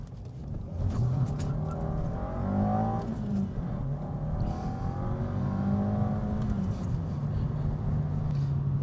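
An Alfa Romeo engine revs hard and continuously, climbing up to the rev limiter. It sounds loud and close, with rising and falling harmonic sweeps and no talking over it.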